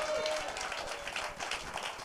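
A church congregation clapping at a Christmas Eve service, a steady wash of hand claps from a crowd throughout, with some voices mixed in beneath the applause.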